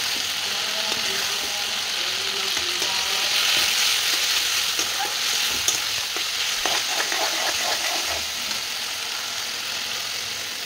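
Green banana pieces sizzle steadily in a pan while a spoon stirs and scrapes against the metal in irregular strokes, close and continuous.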